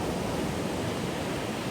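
Sea waves washing at the shore, a continuous broad rushing wash heard up close without pause, with no voices.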